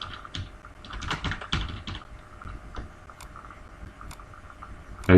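Typing on a computer keyboard nearby, with irregular bursts of key clicks that cluster, pause briefly, then resume.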